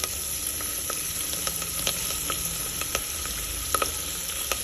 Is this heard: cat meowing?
no